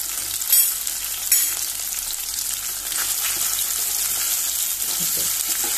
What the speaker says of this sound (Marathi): पॅनान हांवें तेल घातलेले आनी आतां हे पनीर घातले